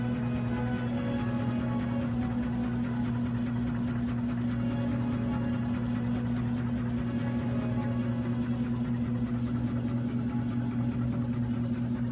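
A sub-zero mechanical extraction apparatus spins at 3,000 RPM, holding a steady, unchanging motor whine and hum with a fine rapid ticking texture throughout, with no voices.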